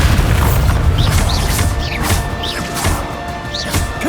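Bombarda explosion spell cast in Hogwarts Legacy combat: loud booming blasts and crashes over a dense, continuous battle din with bright magical whooshes repeating every second or so.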